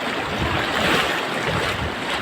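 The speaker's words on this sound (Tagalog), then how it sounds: "Yan po ang aming ilog tatawiran. Ang lakas." A strong river current rushes along a rocky riverbed in a remote area, a dense and steady roar of churning water, loud and close throughout with no voices over it.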